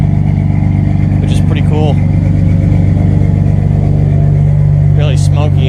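Dodge Dakota 3.9 engine with a Thrush muffler exhaust idling steadily in a garage, a loud, even low rumble that runs throughout while someone talks over it.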